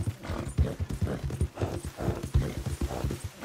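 A horse in the game Red Dead Redemption 2 clip-clops along at a steady walking rhythm, the hoof beats close and distinct, with snorting breaths between them.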